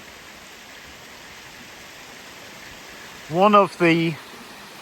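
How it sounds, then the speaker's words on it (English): Steady broadband roar of the waterfall at Bray Clough in the Peak District, a tall single-drop fall, rushing continuously throughout, with someone briefly speaking near the end. "highest single drop waterfalls in the Peak District"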